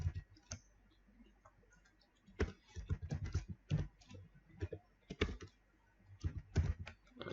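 Keys on a computer keyboard clatter in irregular bursts of quick typing, close and fairly quiet, with short pauses between runs of clicks and no speech.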